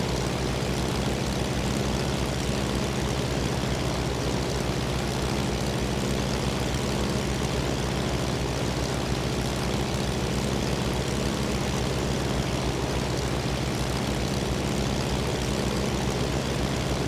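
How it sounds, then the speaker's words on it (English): An MD-83 airliner passes by in Flight Simulator 2004, a steady drone of jet engines holding at an even, moderate level for the whole stretch with no talking over it. "There goes an MD-83 over there."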